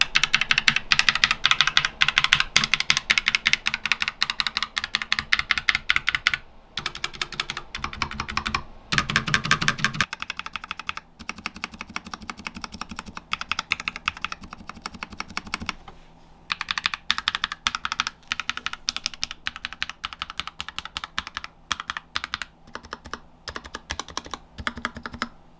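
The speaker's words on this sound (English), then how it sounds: "I did buy some extra switches and keys to do a sound test before and after the mods" Keys on a budget beginner-built mechanical keyboard with extra switches and keycaps are typed in rapid, continuous clacking bursts, loud and close with brief pauses between runs.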